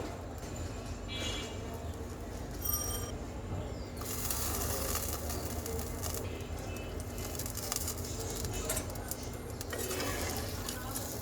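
Fish pieces go into a pot of taro curry, bringing a run of close clattering and scraping from a spoon against the pot over a steady low bubbling. A bird calls faintly in the background.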